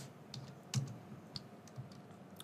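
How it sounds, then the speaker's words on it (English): Fingers tap a computer keyboard, quiet scattered key clicks at an uneven pace against a faint room hush. "So I'm typing the message here"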